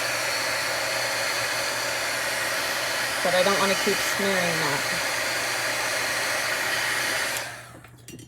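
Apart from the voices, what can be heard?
hot air tool drying craft work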